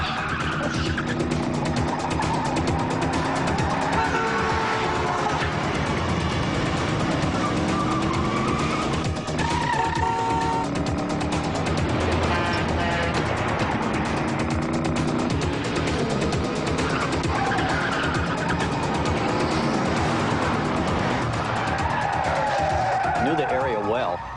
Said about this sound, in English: I was driving my own car in a high-speed pursuit through a very busy section of town.